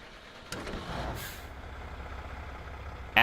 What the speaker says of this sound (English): Absolutely beast sounding truck.